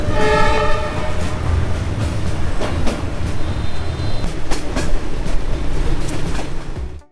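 A passenger train from Hanoi to Da Nang, Vietnam, rolls along with a steady rumble and rhythmic clatter of wheels, a horn sounding briefly near the start, loud and close.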